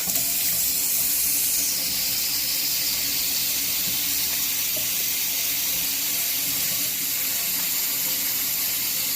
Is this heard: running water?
yes